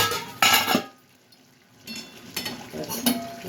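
Stirring cooked jackfruit and potato curry in a pot: a few scraping, clattering stir strokes with soft sizzling, in two bursts separated by a quiet pause.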